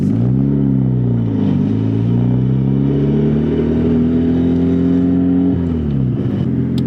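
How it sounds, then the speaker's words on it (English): A Honda Civic engine revs steadily with a slipping clutch, its loud droning note rising, dipping and climbing again as the revs swing up and down without the car picking up speed; no one speaks. "Clutch is slipping like crazy."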